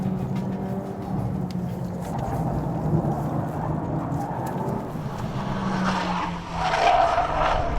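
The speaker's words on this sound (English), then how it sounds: "Yeah, I just drifted the Type R." 2018 Honda Civic Type R drifting on a track, with sustained engine drone and tire squeal rising toward the end, loud and close throughout.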